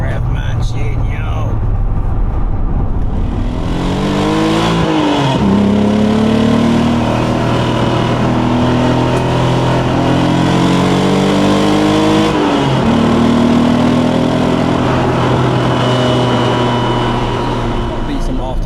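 A 1991 Honda NSX engine revs hard through long gears while driving, rising steadily in pitch, dropping sharply at each shift around five and thirteen seconds, then climbing again; loud and continuous from inside the cabin.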